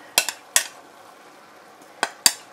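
Taco meat being stirred in a pan, heard as four sharp scrapes and clatters of a utensil against the pan, spaced irregularly over a quiet background, with no talking.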